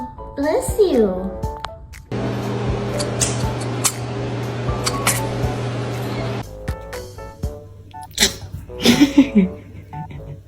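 A kitten sneezes, short sharp bursts heard near the start and again near the end. People talk and laugh around the sneezes, and a steady hum fills the middle.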